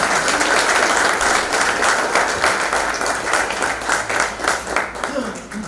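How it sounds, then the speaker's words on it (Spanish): Loud, close applause from an evening tribute audience fills the room, a dense burst of clapping that stays strong before easing a little toward the end. "Así que para él, las palmas esta noche también."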